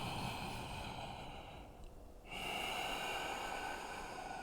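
Steady, audible breathing of a person holding downward facing dog in a strong vinyasa yoga flow: a long airy exhale, a brief pause, then another drawn breath, close and fairly quiet.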